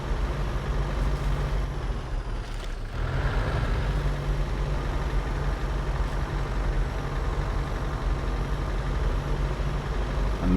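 Heavy vehicle engine in the off-road driving game Snowrunner, a steady low rumbling drone with a constant whine on top, moderately loud and continuous with a brief dip partway through.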